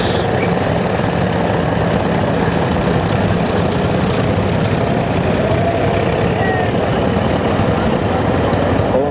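An antique Allis-Chalmers tractor engine runs steadily at idle at a parade, a continuous low rumble with a faint knocking texture, close by and unbroken for the whole stretch.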